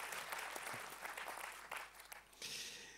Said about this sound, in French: on peut l'applaudir, absolument.